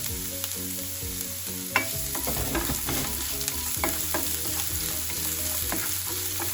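Onion frying in a pan, ahead of adding oysters for an oyster omelette, a steady close sizzle with stirring and a clink from the utensil against the pan, with music playing under it.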